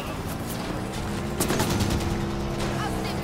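Rapid automatic gunfire rattles in the Halo 5 Guardians video game, a steady burst of shots with a sharper blast partway through, over a rumbling game backdrop.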